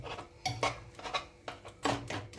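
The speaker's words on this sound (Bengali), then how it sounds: "সেদ্ধ করা সব সবজিগুলো ভালোভাবে মিহি করে নিচ্ছি।" Boiled vegetables for pav bhaji mashed in a pan, a masher landing in about five close, clattering thuds and scrapes against the metal, with short quiet gaps between strokes.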